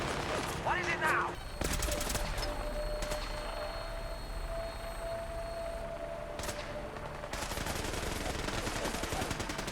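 Plasma guns firing from a Vertibird gunship in the video game Fallout 4, rapid repeated bursts of shots over a steady aircraft rotor drone with some sci-fi tonal hum, fairly distant and continuous.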